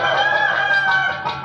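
A Ramlila stage performer imitates a rooster crowing, one long sustained vocal cock-a-doodle-doo that stays loud and steady throughout, with no other sound around it.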